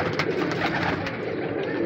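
Pigeons coo steadily in a loft, soft overlapping throaty calls from several birds close by with a faint background hiss.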